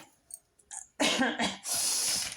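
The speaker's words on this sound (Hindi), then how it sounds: "बड़ा खांसी हो गई है" A few harsh, close coughs burst out in quick succession, followed by a long breathy exhale, with no talking.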